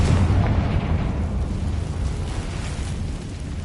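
An explosive fire spell goes off in the video game Hogwarts Legacy, a loud sustained rumbling boom with a dense low roar that decays slowly over several seconds, no voices.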